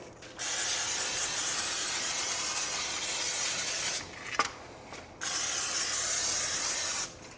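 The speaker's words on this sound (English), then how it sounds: "I'm just gonna go ahead and spray them all" Two long, steady hisses of an aerosol cooking-oil spray coating jalapeño poppers in an air fryer, each lasting a few seconds, separated by a brief pause with a faint click.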